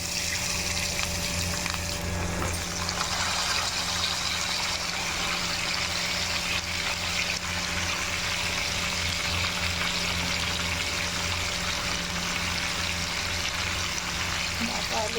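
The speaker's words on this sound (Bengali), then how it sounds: "তেলটা আমার গরম হয়ে গেছে। এখন আমি ডাঁটা আলুগুলো দিয়ে দিই।" Potatoes and vegetable stems sizzle in hot oil in a pan, a continuous dense frying crackle holding steady and close for the whole stretch, with no talking.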